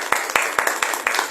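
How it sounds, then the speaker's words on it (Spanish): At a book presentation, a small audience claps for a speaker: sparse, distinct hand claps at an uneven rhythm, fairly close, with faint voices underneath. "Pido un aplauso para la compañera"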